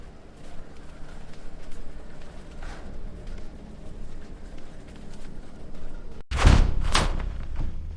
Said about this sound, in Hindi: आधी रात दरवाजा तोड़ा गया।